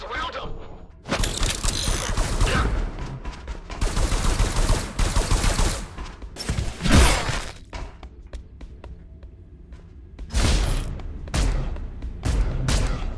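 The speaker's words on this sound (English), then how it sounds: "Wait, what's shooting at me?" Enemy gunfire rattles at the player in the video game Ghostrunner: loud rapid bursts and clattering volleys, broken by short pauses and mechanical clanks across the stretch.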